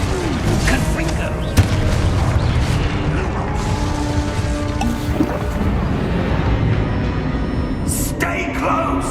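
Confringo blasting-spell explosions in the Hogwarts Legacy video game, loud booming bursts over a dense, continuous bed of game sound effects and background action, with a sharp hit near the start and another flurry near the end.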